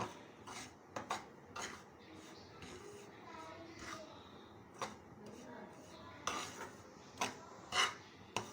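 Wheat flour roasting in a pan for halwa, stirred with a utensil: intermittent scraping and clinking strikes against the pan at an irregular rhythm, close and fairly faint over a quiet background.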